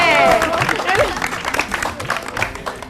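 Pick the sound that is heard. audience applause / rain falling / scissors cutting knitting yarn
audience applause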